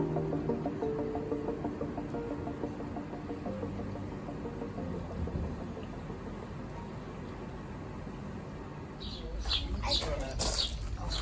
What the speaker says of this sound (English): The sparrows like it here because there's crumbs of bread and croissants everywhere.